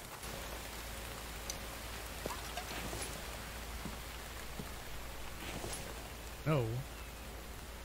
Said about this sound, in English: Rain, glorious rain.